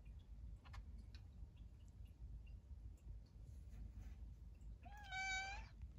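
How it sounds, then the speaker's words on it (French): A house cat meows once near the end, a clear rising-then-falling call heard alone over a low steady background hum, beside an indoor plant display cabinet. "il vient et il me miaule dessus pour que je lui ouvre la vitrine."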